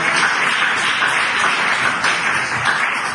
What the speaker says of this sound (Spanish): Brinden un aplauso al Señor, mis queridos hermanos